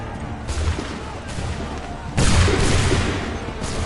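Musket volley fire in Assassin's Creed III sounds as several booming, crackling bursts over a steady battlefield din, each louder than the last and ringing out.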